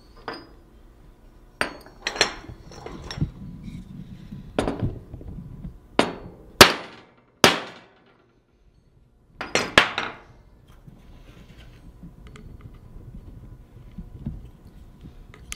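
A hammer taps a bearing into a Chevy spindle with about a dozen sharp, ringing metallic strikes. They come singly and in small clusters with quiet gaps between them, close and fairly loud.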